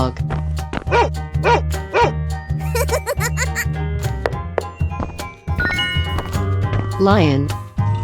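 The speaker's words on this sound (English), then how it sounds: "Dog." Cartoon dog barking in a 3D animal sliding game, a run of bouncy, rhythmic woofs over a repeating musical beat, with lively voices and laughter throughout.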